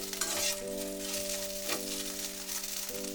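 Okra (lady's finger) fries in a pan with a steady, close sizzle and occasional stirring scrapes, while a faint tonal hum runs underneath throughout.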